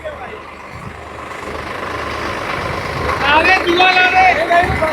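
Two Swaraj 855 tractors, one old and one Protek, pulling off together in four-wheel drive at medium gear around 1000 rpm, a steady diesel engine drone that swells near the end, with people talking over it.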